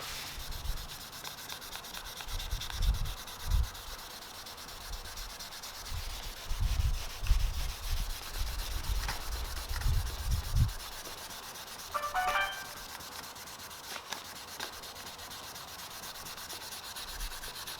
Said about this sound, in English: The objective when wet sanding is to get the subject area completely flatted down with an even and light grey finish